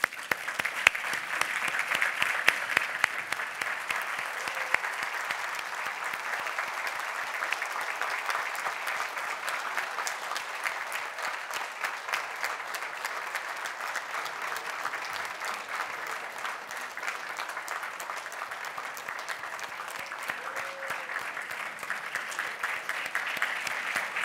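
Graduation ceremony audience at the University of Essex applauding steadily, a dense, sustained wash of clapping from a large hall crowd that holds at an even level throughout without any talk over it.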